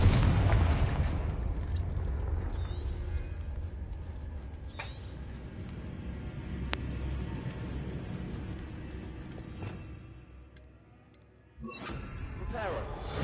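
Explosive Bombarda and Confringo spells go off in the Hogwarts Legacy video game: a long, loud rumbling blast with scattered crackling bursts and debris sounds that fades, then a sharp new burst near the end, with a voice at times.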